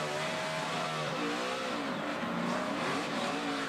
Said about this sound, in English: you could hear the thing wheel hop